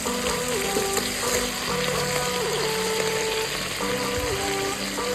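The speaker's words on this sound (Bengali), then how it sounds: "আমার আরেকটু ভেজে নিলে আমার হয়ে যাবে কাঁকড়া ভাজাটা।" Crab pieces frying in a pan for a spicy crab curry, with a continuous close sizzle and a faint melodic tone running underneath, and no talking.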